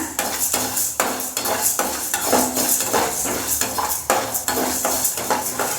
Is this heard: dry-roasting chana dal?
yes